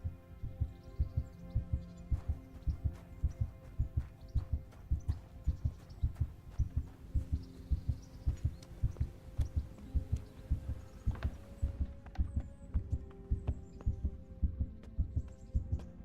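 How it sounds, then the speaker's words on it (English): Heartbeat in the video game Kingdom Come: Deliverance thumps steadily in low, regular double pulses throughout, over a faint background hum. "I don't like this heartbeat sound."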